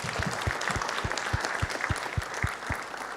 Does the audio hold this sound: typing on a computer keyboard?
no